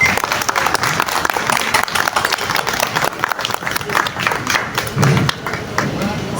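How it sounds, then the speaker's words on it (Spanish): Audience applause at an evening literary presentation, a sustained wash of many hands clapping that rises and thins over several seconds, with a voice talking over it. "Un aplauso, por favor."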